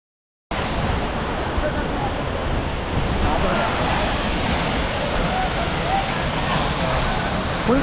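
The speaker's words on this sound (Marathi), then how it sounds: "तर तुम्ही पाहू शकता आपला मडेघाट धबधबा" Water rushes at the Madhe Ghat waterfall near Pune during the monsoon, a loud, constant broadband roar mixed with wind buffeting the microphone, starting abruptly after a moment of silence and continuing unbroken.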